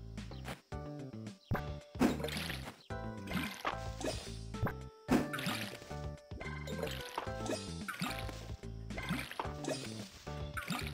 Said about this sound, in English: let's water the remaining plants